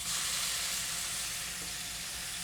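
Tofu French toast sizzles in hot oil in a pot, a steady, dense frying hiss that stays loud and even throughout with no voices over it.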